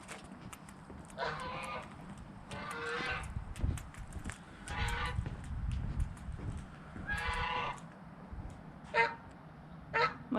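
A goose-like bird honks loudly near a lakeside pavilion on a nature trail, several harsh calls in separate bursts over a low background of footsteps and outdoor rumble.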